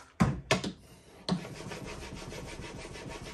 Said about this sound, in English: I'm going at an angle, as you can see, like making V shapes, again, to use the entire surface of this sharpening stone